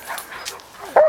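A dog gives a short, loud bark near the end, preceded by a few softer yips and whimpers, close by and with no talk.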